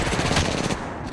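Rapid automatic gunfire from the video game Apex Legends, loud and dense bursts packed into about a second.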